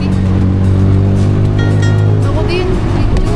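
A tricycle-style motor taxi in Thailand drones along with a steady engine note, its pitch shifting slightly as it rides, while voices talk over the ride.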